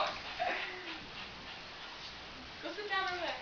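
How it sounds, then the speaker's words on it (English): A frightened pet dog whimpers indoors during a thunderstorm, with two separate bursts of high, wavering whines split by a pause, as people talk nearby. "our dog's really scared too"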